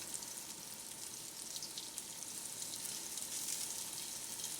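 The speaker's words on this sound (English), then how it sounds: "we're going to put our fillets right into that hot oil" Trout fillets frying in hot oil in a pan, a steady soft sizzle with crackling pops throughout, fairly faint and continuous with no talking.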